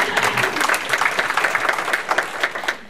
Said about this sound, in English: you can clap that